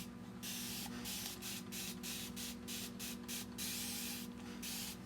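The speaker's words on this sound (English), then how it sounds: "spray this with water." A spray bottle of water mists over chalk art on a stencil, a series of short, sharp hissing spritzes in an irregular rhythm, close and fairly loud over a steady low hum.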